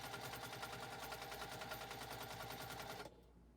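A JUKI sewing machine stitching a seam on fabric, a rapid even mechanical clatter that runs steadily and then stops abruptly near the end, leaving quiet room tone.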